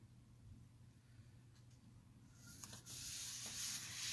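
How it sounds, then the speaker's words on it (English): Paper being rubbed with a bone folder to smooth adhesive on a folded note pad or card, a soft, steady close scraping that grows louder and more textured in the second half, with no talk. "gently rub your hand or your bone folder, smoothing out all that adhesive"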